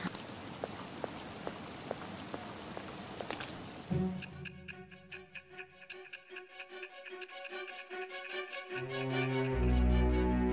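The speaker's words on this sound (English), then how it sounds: "This rain ain't too bad." Rain falling in the Persona 5 video game, a steady patter with scattered drops that gives way to a game soundscape of ticking, rhythmic tones and a low swelling hum toward the end, fairly quiet and with no talking.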